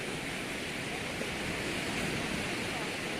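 Sea waves breaking on a beach on the Bulgarian coast, a steady broadband roar of surf with no clear individual crashes, close and continuous across the whole stretch.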